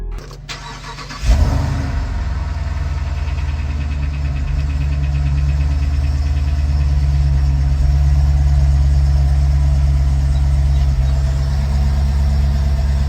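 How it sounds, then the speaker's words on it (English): Dodge Durango Hellcat V8 cold-starting: a sharp crank and catch, then a loud, steady idle with a dense low rumble that runs on without letting up. "I heard a knocking noise when I cold start the truck, which I'm gonna show in the clip."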